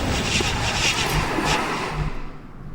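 Alien floaters hovering in the video game XCOM Long War: a steady, loud droning hum with whooshing swells, like hovering engines, continues for the whole clip and fades slightly at the end.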